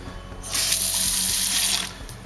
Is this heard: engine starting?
no